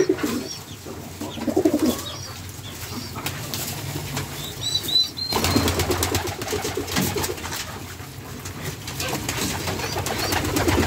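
A hungry pigeon squab calls with soft, insistent cooing squeaks amid bursts of wing flapping, close by, with rustling and handling noise throughout.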